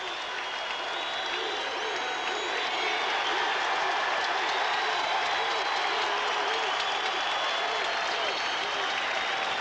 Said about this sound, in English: he gets a standing ovation from the loyal crowd here at Shea Stadium